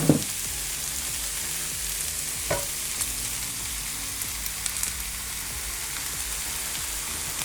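Vegetables sizzle steadily in a pan as tomatoes and olives go in for a Mediterranean olive and pepper spaghetti sauce, with a couple of sharp clatters early on over the constant frying hiss.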